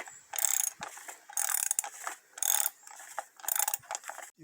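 A filter wrench ratchets while tightening the oil filter on a 2013 Mercury 25 hp EFI outboard, four separate bursts of close metallic clicking at a steady rhythm with quiet gaps between them.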